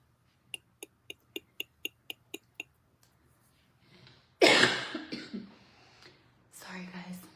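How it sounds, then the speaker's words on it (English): A person coughs close to the microphone in a loud, harsh burst that breaks up into rough throat sounds. It is followed by a murmur of voice, after a run of sharp, evenly spaced clicks. "my cough is still here"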